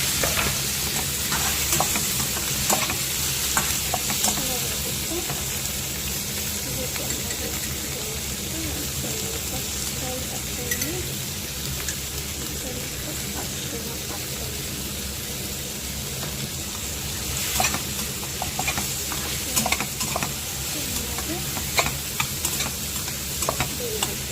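Cashews and a couple of tomatoes frying and being stirred in a pan of hot oil while a mixed vegetable palya masala is made, a steady close sizzle broken by scraping stirs and occasional sharp spoon clatters, with no talking.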